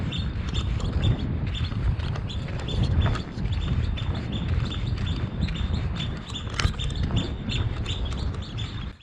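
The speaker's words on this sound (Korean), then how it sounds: "새들이 많아서 새소리가 굉장히 많이 들리죠" Many birds chirping and calling in a busy chorus on Nongseom, an uninhabited tidal-flat island in Hwaseong, South Korea, over low rumbling wind or footsteps, continuous throughout.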